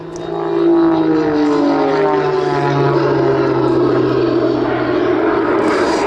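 A Pitts S-2S with one propeller engine and two small jet engines gives a loud, steady drone with a rising and falling tone at an air show at Duxford, continuous and close, with no voices.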